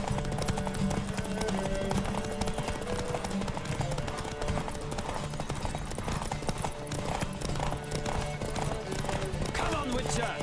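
A horse gallops in The Witcher 3 video game, steady rapid hoofbeats running throughout under game music and shouted voices.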